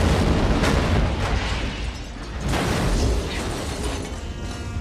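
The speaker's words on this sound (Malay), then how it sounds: "Dia dan orang-orangnya lalu menembak kereta Brian yang lalu meletup" A car blows up after being shot, its nitrous tank igniting in a Fast and Furious film scene, heard as a dense, loud rumbling blast with crackling debris that rolls on without a break.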